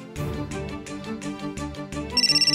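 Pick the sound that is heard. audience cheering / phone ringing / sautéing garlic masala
phone ringing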